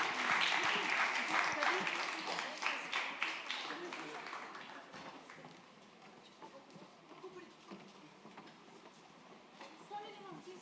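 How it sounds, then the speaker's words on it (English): Audience in a school auditorium at a language fest opening ceremony applauds a participating school, GEMS Modern Academy; dense clapping starts loud and fades to a sparse patter over several seconds, with some crowd murmur. "Please welcome them with a loud round of applause."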